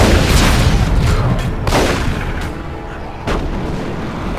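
Space Marines fire in Dawn of War II: Chaos Rising, a dense, continuous barrage of booming gunfire and artillery-like blasts with sharp bursts near the middle and end, loud throughout.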